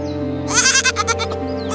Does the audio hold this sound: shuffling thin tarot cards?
no